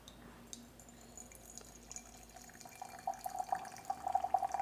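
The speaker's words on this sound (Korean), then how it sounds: "이 물소리도 듣게 되는구나." Hot water is poured softly while brewing peach blossom tea, a faint, steady trickle that grows slightly louder toward the end in a quiet room.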